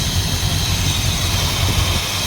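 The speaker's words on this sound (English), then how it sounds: "that's better, that's idling." A 1977 Dodge Adventurer D150 truck's 440 big-block V8 idles steadily with a low rumbling drone and constant hum, close and unbroken throughout.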